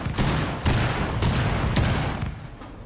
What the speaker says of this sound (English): Detonating cluster charge.